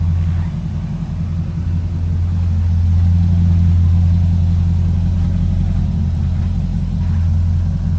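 A 2006 Chevrolet Corvette 3LT with a 400-horsepower LS2 V8, six-speed manual and performance exhaust and intake runs a steady, loud, deep rumble close by, swelling slightly partway through, with no talking.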